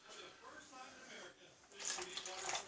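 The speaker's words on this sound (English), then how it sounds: "Pour a little bit in there." Nestle Juicy Juice apple juice is poured over ribs being prepared on a Trailmaster smoker, giving a soft, trickling splash that swells louder near the end while someone talks nearby.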